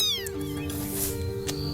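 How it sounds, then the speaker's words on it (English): Kittens meow close by in a few short, high, rising calls over quiet outdoor background. "Oh my god! There are kittens!"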